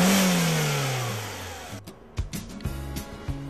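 A Dacia Logan MCV's 1.6-litre Renault petrol engine revs loudly, its pitch falling as the revs drop, then gives a few sharp blips, close and with no voices.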